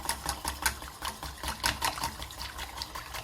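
Hand whisk beating milk into butter and flour for a béchamel, giving rapid, rhythmic wet clicks and sloshes against the bowl, steady and close with no talking.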